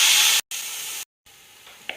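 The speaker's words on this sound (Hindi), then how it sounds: "अब मैं थोड़ा सा इसमें पानी डालूंगी।" Water poured into a hot frying masala for Punjabi kadhi pakora gives a loud, close burst of hissing steam. The hiss comes in short cut-off bursts and fades to a quieter simmer.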